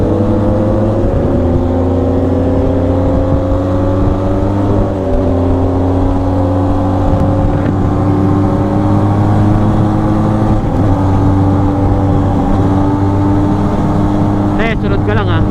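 Benelli TRK 502X motorcycle on a long ride behind a Kawasaki Ninja 1000 SX, a loud steady engine drone with shifting harmonics as the rider goes through the gears, a voice talking over it.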